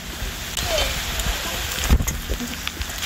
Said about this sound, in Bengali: আদা রসুনটা পেঁয়াজের সাথে একটু ভেজে নেব।